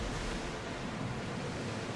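A short stretch of steady, rushing surf from the sea in Assassin's Creed Odyssey, an even broadband wash without distinct breaks, moderately quiet and alone.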